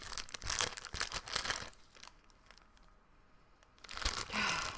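A snack bag crinkles and rustles in close, dense bursts at the start and again at the end, with a quieter gap between.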